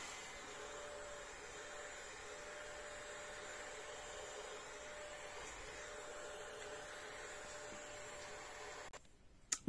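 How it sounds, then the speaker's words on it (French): A small handheld electric facial fan hums steadily and quietly for most of the time, with a faint high whine, stopping near the end with a couple of soft clicks. "Et ensuite je passe mon petit ventilateur que je suis en train de glisser."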